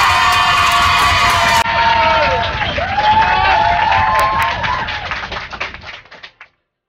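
A concert crowd cheers and shouts loudly, with scattered clapping and whoops, the noise swelling then tapering off over several seconds.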